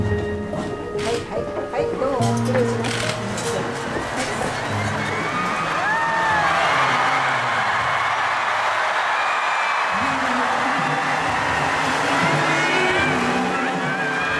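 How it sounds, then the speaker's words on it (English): A large, exalted crowd cheers as the Pope enters an arena, a broad sustained roar of voices with scattered shouts that swells and holds steady, with speech over the top early on. "He disappears in the midst of an exalted crowd as the Pope enters the arena."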